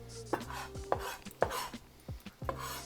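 A Chinese cooking knife chops through fish on a board with about six crisp, sharp strikes at an uneven pace, close and clear with no talk.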